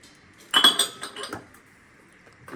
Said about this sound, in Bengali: আজকে আমার হাত দিয়ে কি জিনিস পড়ে যাচ্ছে, থালাটা